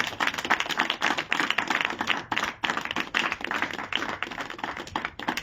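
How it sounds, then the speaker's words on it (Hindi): A church congregation claps loudly and continuously in praise of Jesus, a dense, steady burst of many hands with brief dips, filling the room without speech. "एक बार खुदाबंद यीशु के लिए जोरदार तालियों के साथ"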